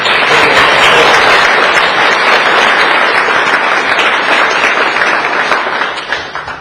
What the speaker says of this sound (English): So I'd like to give these three a big round of applause.